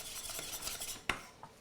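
A utensil scrapes and stirs briskly in a bowl or pan as egg yolks are mixed into a sauce, giving soft swishing strokes and one sharper clink, close and fairly quiet, with no speech.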